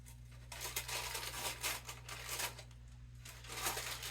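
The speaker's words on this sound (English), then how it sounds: "I'm tearing up the parchment paper" Parchment paper being torn away from a freshly baked rustic no-knead loaf from a Dutch oven, giving repeated close crinkling and ripping bursts over a steady low hum.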